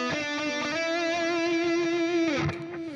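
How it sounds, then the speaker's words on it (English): Sustained electric guitar lead from a solo, played on the neck pickup with distortion and effects: a held bent note rings steadily for about two seconds, then a quick descending bend and shorter notes close it out, loud and without talk. "I just think this lick sounds a little bit better on the neck pickup"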